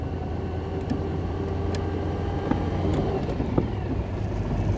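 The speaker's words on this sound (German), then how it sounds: "Jetzt fahren wir im ersten Gang mit unserem 8-Zylinder, ruckelt ein bisschen." A 1936 Cord 810 Convertible Phaeton with a V8 rolls along in first gear, jerking slightly. A steady low engine drone carries a few faint clicks and rattles, heard from inside the car.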